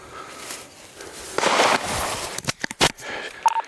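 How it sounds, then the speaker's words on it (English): Several sharp gunshot-like cracks ring out near a residential street during a police search, a cluster of loud reports in quick succession after a burst of noise, spaced irregularly and echoing outdoors. "Shots fired."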